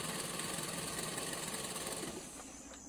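A sewing machine runs fast, stitching a sack into a large bag, giving a continuous dense mechanical whir and rattle that stays steady and close, then eases slightly toward the end.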